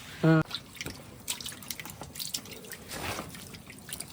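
Water drips and splashes softly in a basin as wild mushrooms are rinsed and handled, with a brief clink near the start.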